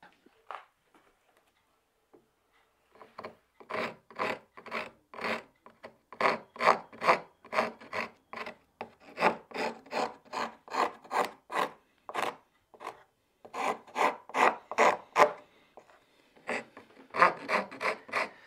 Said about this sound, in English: I want to work a little chamfer into it